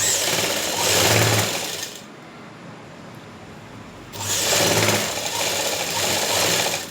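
Sewing machine stitching a straight seam on trousers, a loud close whirring run in two bursts separated by a couple of seconds of quieter pause, with a steady rapid needle clatter.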